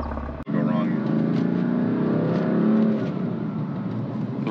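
A BMW F80 M3 drives along with a steady, rumbling engine drone that swells gradually as it pulls forward, loud and close from inside the car.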